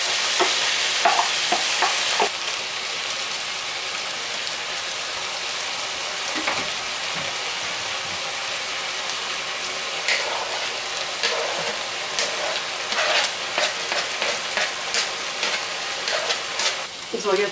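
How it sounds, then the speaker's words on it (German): Onions, diced garlic and carrots sizzle and fry steadily in a hot pan for a broccoli and minced-meat pasta bake, a continuous close crackle with occasional stirring clinks throughout. "Also gebe ich jetzt einfach mal die Zwiebeln, die Knoblauchwürfelchen und die Möhren"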